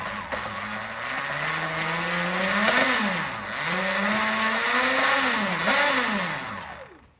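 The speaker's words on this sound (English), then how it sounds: "you can turn it on and rev it up now" An electric dirt bike motor revs up and down, its whine rising and falling in pitch over several cycles with a steady hum underneath, close by and unaccompanied by speech.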